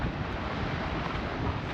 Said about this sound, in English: I have put the wind reduction on, so let's hope that cuts down the wind noise just a little